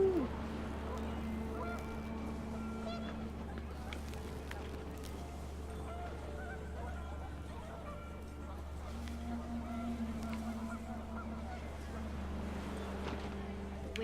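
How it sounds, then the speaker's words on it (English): Geese honk in alarm during a windy scene in the game What Remains of Edith Finch, scattered honks over a steady low drone and background ambience, with a voice talking over parts of it. "The wind picked up, and panicked geese appeared and quickly went."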